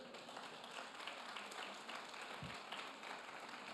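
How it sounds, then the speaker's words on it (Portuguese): A church congregation applauds, a broad, faint wash of clapping that holds steady throughout, distant and reverberant with no clear voice on top. "Você pode dar um aplauso ao Senhor?"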